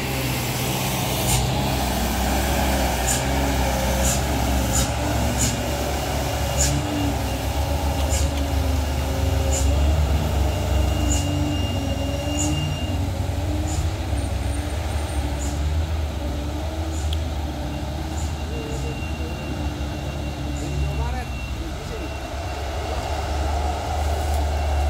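A Hino truck labors up a steep road in drizzle, its engine droning in a deep, steady roar close by while sharp hissing air-brake bursts recur throughout.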